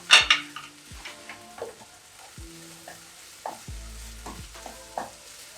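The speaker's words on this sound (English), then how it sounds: "We are going to mix it up until our spices are well mixed and well done." Chicken breast stir-frying with paprika, turmeric and mustard in a pan: a soft sizzle under repeated scraping stirs and a few clinks of a utensil against the pan, quiet and close, with no talk.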